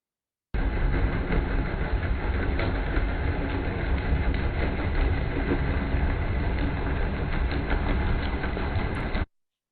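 Large ship propellers heard underwater as a steady, dense broadband rumble with faint rhythmic churning, holding at an even level for about nine seconds before cutting off, with no talking.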